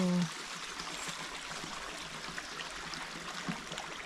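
Water flowing in a stream at a campsite in a mountain national park, a steady broadband rush heard close and continuous, with a brief voice at the start.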